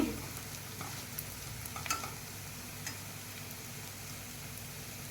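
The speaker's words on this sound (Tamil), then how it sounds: "சின்ன வெங்காயம் போட்டுக்கங்க எடுத்து வச்சுருக்க வச்சு போட்டுங்க அதோட ஒரு பச்சை மிளகா சேர்த்துருக்கேன் வெங்காயம் நல்லா வதங்கிருச்சு" Shallots and green chilli sautéing in a pan for egg curry, a steady soft sizzle running throughout with a few light scraping stirs, close and fairly quiet, no voices.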